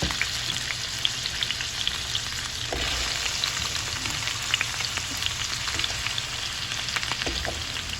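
Carrots and potatoes frying in hot oil for beef mechado, a dense, steady sizzle with small pops and occasional stirring scrapes, close and continuous with no talking.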